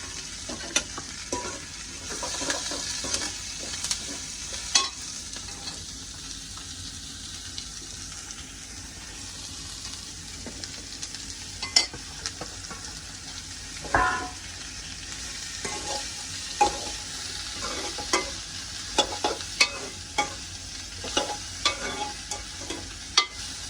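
Beetroot frying and being stirred in a pan: a steady close sizzle runs throughout, broken by frequent scraping, clacking spoon strokes and occasional watery splashes, with no talking.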